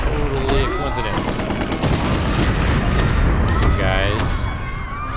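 Big explosion in the video game Kaiju-A-GoGo, a dense run of booms and crackling blasts with debris and whining tones, loud and close, with a voice speaking briefly over it.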